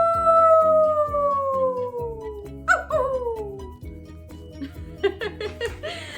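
A reader imitates a coyote with a long, drawn-out howl that slides downward, followed by a second falling howl and a run of short yips, all voiced close up over quiet background music.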